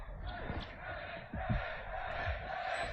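Spectators at an esports match roar and call out together in a dense, continuous crowd wash, loud and close throughout with a few sharper shouts rising out of it.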